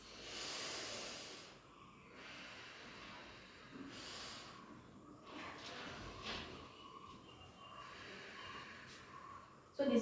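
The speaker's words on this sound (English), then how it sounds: "Again take a deep breath through your nose." A COVID patient doing a thoracic expansion exercise during physiotherapy takes slow, deep breaths in through the nose. A few long, hissing inhalations sound close but faint, with quiet pauses between them.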